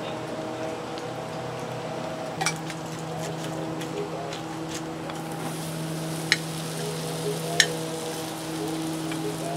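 Okra coated in flour frying in a generous layer of oil on a Blackstone griddle, a steady soft crackling sizzle with occasional sharper pops, close and moderate in level throughout.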